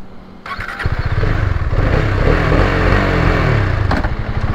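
A Husqvarna Vitpilen 250 motorcycle engine fires up and settles into a steady, loud, close idle rumble as the ride begins, with no talking.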